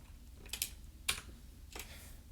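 Computer keyboard typing while code is entered during a Python programming lesson: three short bursts of keystrokes, fairly quiet and close, with brief pauses between them and no talk.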